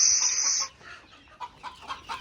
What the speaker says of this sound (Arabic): شوف وين طب الديك.